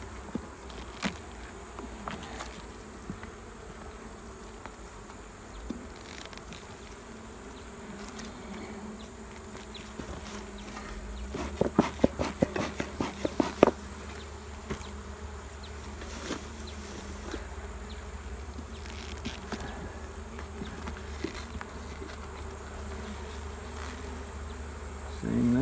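Bees hum steadily around a hive busy with pollen and nectar, a constant close drone with a brief cluster of sharper ticks and knocks midway.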